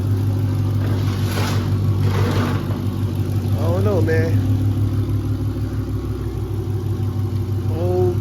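A car with a suspected blown motor runs at a steady idle, a loud continuous low hum with a faint rhythmic knock underneath, while someone talks briefly over it.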